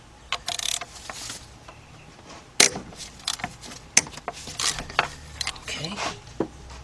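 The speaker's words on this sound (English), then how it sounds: "let's get our 3/8 drive ratchet" A 3/8 drive ratchet works on a Honda head gasket and timing belt job, giving short bursts of quick clicking with pauses between strokes, fairly close and moderately loud, plus a few sharp knocks and clanks of tools.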